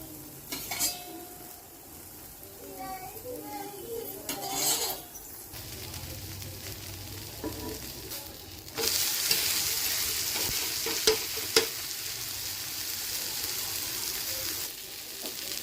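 Carrot and onion dosa batter cooks on a hot pan with a loud, steady hiss and sizzle, following earlier clinks of utensils and a short stretch of stirring.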